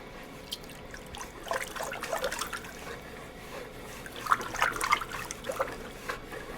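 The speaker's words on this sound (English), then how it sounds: "I use a toilet brush to stir my glazes." A toilet brush stirs turquoise pottery glaze in a bucket, a steady close sloshing and swirling of thick liquid with small splashy surges, heard alone without talking.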